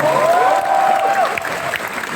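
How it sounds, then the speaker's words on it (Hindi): An audience at IIT-BHU applauds loudly and continuously for an organizing committee, with a whistle-like tone rising over the clapping near the start. "एक बार जो भी ऑर्गेनाइजिंग कमेटी है उसके लिए जोरदार तालियां बजा दीजिए"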